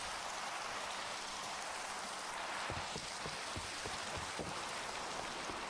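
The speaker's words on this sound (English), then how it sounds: "Okay, it's a thunderstorm." Steady thunderstorm rain in a video game makes a constant even hiss, with scattered close droplet taps standing out midway; no thunder is evident.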